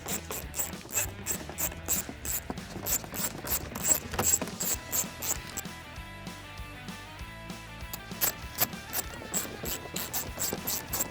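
A hand ratchet removes 10mm fasteners on a 2021-2024 Mustang Mach-E, giving close, crisp bursts of rapid clicking in repeated strokes with short pauses between them, and no talking.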